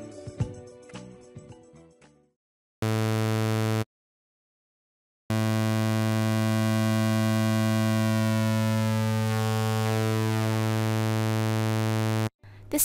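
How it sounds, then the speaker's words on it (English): A harsh, buzzy digital tone with gritty bitcrusher distortion from bit depth reduction in Massive drones in long sustained blocks separated by abrupt silences, following a short busier passage. "a crush control that adjusts the amount of bit depth reduction, which creates the distortion effect"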